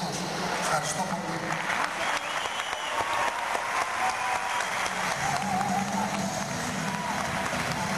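At an award ceremony, an audience applauds after a speech with sustained, even clapping from a crowd that fills the room at moderate distance, and voices are heard over it.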